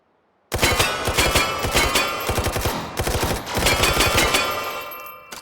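An AKS-74U rifle fires rapid automatic bursts, loud and close, with sharp repeated cracks in two runs broken by a brief pause, then a fading tail.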